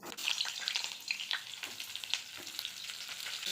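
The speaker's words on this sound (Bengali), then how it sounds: "ঝিঙেগুলো আমি ভালো করে ভেজে নেব" Ridge gourd pieces fry in a hot kadai while a Bengali fish curry is being made. There is steady close sizzling and crackling, with occasional stirring scrapes and no voices.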